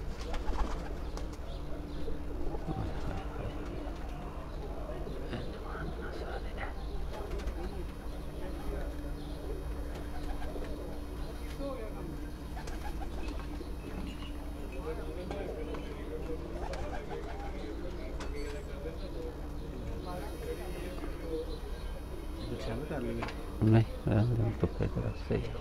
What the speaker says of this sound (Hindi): लाल परी डब वाले कबूतर ने जी